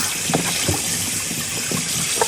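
Water gushes steadily through a strainer as vinegar is rinsed off food, a continuous close splashing wash with small bursts of clatter against the metal mesh, no voices.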